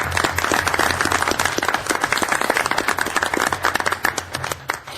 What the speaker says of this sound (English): I ask you folks to give them a little applause.